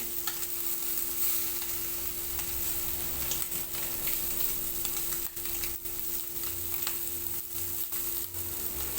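Kerala-style fish frying in a pan over a low gas flame, a steady close sizzle with faint scraping and stirring, no talking.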